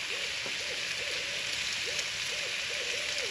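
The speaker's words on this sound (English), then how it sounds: "Wonder what that owl's doing hollering this into this summer like that" An owl hoots repeatedly in Alabama woods during summer, a series of soft, fairly distant calls in a steady pattern over a constant hiss like light rain.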